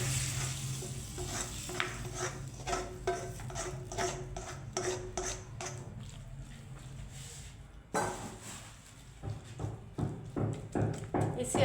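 Radish paratha cooking in a pan, with sizzling frying and repeated scraping and stirring clinks of a utensil against the cookware, a soft voice speaking underneath.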